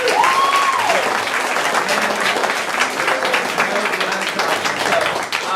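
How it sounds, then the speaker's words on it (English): An audience at an improv class show breaks into applause, a sustained wash of clapping from many hands with a few voices mixed in. "A round of applause."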